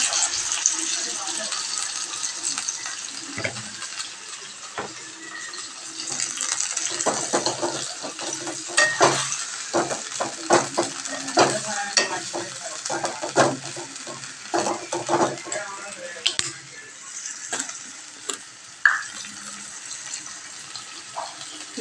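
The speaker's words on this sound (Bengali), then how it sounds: "তেলটাকে ভালো করে আমি গরম করে নিলাম আর দিয়ে দেবো সেদ্ধ করা কচু চাপটা" Boiled taro pieces frying in hot oil with turmeric, a moderate sizzle broken by frequent clinks and scraping of a utensil against the pan, with some talk in the background.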